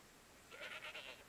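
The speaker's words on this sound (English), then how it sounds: "Mouflon, here's some baby mouflons." Mouflon sheep in the video game Dawn of Man give a run of four or five soft, nasal bleats in quick succession, moderately quiet against a faint ambient bed.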